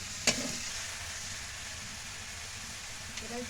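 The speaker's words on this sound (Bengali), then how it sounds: "মাংসের কুচি দেওয়ার পরে একটু ভালোভাবে নেড়ে নেবেন" Minced meat stirred and fried in a wok for momo filling makes a faint, even sizzling hiss, with a sharp utensil click near the start and another softer one near the end.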